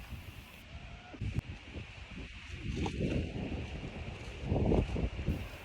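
Wind gusts buffet the microphone outdoors, a rough low rumble that swells and fades with faint rustling, no one speaking.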